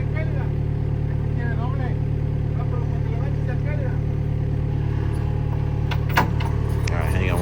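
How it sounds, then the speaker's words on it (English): A small skid steer loader's engine drones steadily and loudly at close range, holding a constant low rumble throughout, with some faint voices and a brief clatter near the end. "It's a little skid steer."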